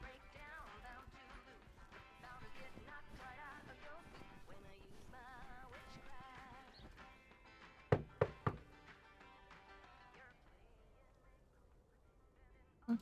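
Knocking on a door in the video game Lake: a quick cluster of three sharp knocks midway, sounding over soft background music, then one more knock at the very end.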